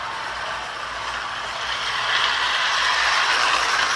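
A motorized Larx Daisy/Donald toy handcar with fresh motor brushes runs steadily, giving a close, continuous mechanical whir and gear clatter that grows slightly louder partway through, with no talking.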